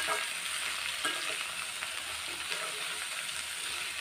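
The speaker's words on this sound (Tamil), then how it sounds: "அதே எண்ணெயில் பிரண்டையும் சேர்த்துக்கலாம். நல்லா எண்ணெயிலையே வதக்கி எடுத்துக்கலாம்." Pirandai (adamant creeper) sautéing in hot oil gives a steady, dense sizzle that stays even and continuous, with a few faint stirring clicks and no talking.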